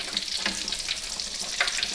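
Slices of mozzarella in carrozza fry in hot oil, giving a steady, close crackling sizzle with scattered sharper pops throughout and no talking.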